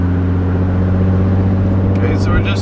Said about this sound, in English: Okay, so we're just driving down the road.